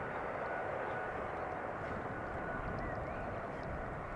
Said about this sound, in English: Extremely quiet airplane. And of course a lovely sound. Many GE90s